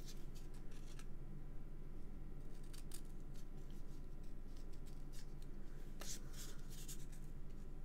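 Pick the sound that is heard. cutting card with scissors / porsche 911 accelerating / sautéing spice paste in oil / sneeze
cutting card with scissors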